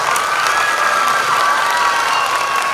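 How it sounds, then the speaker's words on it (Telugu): A school audience at a high school reopening event claps loudly together, with steady applause and some cheering running throughout at close range. "అందరు గట్టిగా చప్పట్లు పెట్టాలా"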